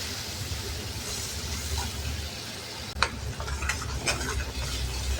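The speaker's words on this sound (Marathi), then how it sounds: "हा मसाला बारीक वाटलेला आहे तो छान परतून घेऊया" Finely ground masala with turmeric sautéing in oil in a pan on the gas stove, a steady soft sizzle with a few sharp scraping clicks of a spoon stirring, no talking.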